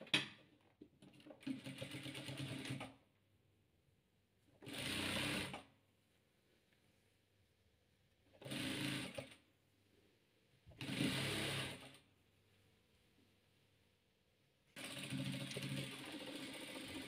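Sewing machine stitching rows of diamond patchwork together, running in five separate loud bursts of a few seconds each, with quiet pauses between the runs.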